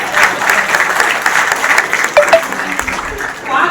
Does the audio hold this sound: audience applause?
yes